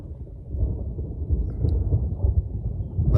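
Thunder rumbles low and deep as a thunderstorm with rain begins outdoors, a dull growing roll that swells and stays heavy, alone without voices.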